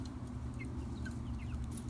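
Chickens cluck and chirp softly in a home garden on a hot day, several short, faint calls scattered over a steady low background hum.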